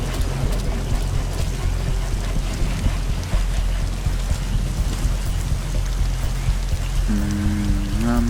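Continuous heavy rain pours down in the stealth game Metal Gear Solid V: The Phantom Pain, a loud dense wash with low rumble beneath and a brief tonal rise near the end, with no talk over it.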